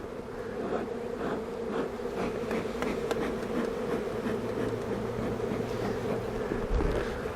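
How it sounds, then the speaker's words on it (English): A large swarm of honey bees hums in a steady, dense drone that holds constant and fairly close throughout, with no voices. "I start down here, smoke the bees in, made a space for them to go in."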